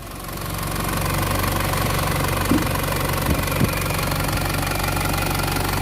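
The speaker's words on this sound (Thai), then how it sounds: "ก็ติดเครื่องยนต์ไว้ประมาณ 15-20 นาทีนะครับ" An Isuzu D-Max 3.0 pickup's diesel engine idles steadily up close, a low rumbling drone with rhythmic knocking and a couple of brief clunks; the engine has low idle and shaking.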